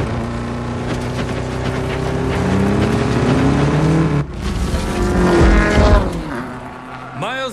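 A Subaru rally car revs hard during an off-road race in the Need for Speed Payback video game, its engine pitch climbing and dropping through gear changes, loud and close, with a sharp break midway and a rising whine at the end.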